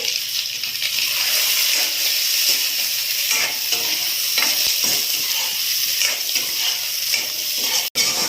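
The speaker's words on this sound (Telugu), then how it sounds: "ఈ టైంలో టమాటా వేసుకోవాలి. పచ్చిమిర్చి కూడా వేసి వేపుకుందామండి." Tomato and green chilies fry in a pan with a steady bright sizzle and hiss, interrupted by occasional stirring scrapes, close and fairly loud, with no talking.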